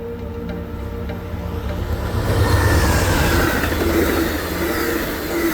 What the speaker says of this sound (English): I would catch Amtrak train P283 being led by Amtrak